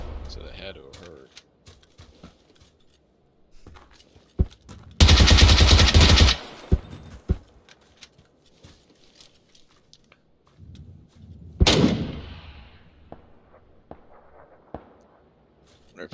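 Bursts of automatic gunfire in a shooter video game, a sustained loud volley followed later by a shorter sharp burst, with scattered clicks and quiet game ambience in between.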